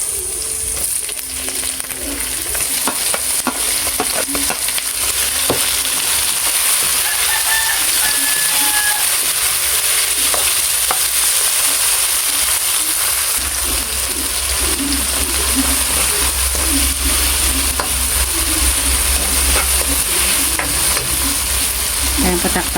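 Tomatoes frying in a pan for sarciadong daing na pusit, a steady loud sizzle with stirring clatter throughout, a rooster crowing faintly in the background.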